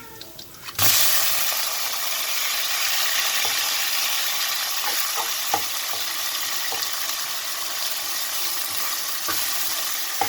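Chicken drops into a hot pan of golden fried garlic and bursts into a loud, dense sizzle that holds steady, broken by a few scraping stirs, with no talk.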